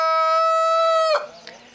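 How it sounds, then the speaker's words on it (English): A rooster crows once on a goat farm where chickens are raised, one clear drawn-out call that cuts off abruptly, followed by faint farmyard clucking. "At Agapal Goat Farm, we also raise chicken."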